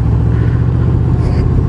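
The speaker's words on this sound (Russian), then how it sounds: "Красивая работа двигателя." A Honda VFR800F motorcycle's V-engine runs close by with a loud, deep, steady throbbing rumble and a strong low harmonic drone, held at an even pitch throughout.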